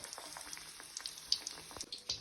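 Non-veg garelu, savory lentil vadas, fry gently in oil over a low flame, giving a soft, steady crackle dotted with faint little pops and bubbling.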